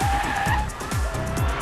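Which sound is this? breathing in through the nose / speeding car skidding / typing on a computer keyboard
speeding car skidding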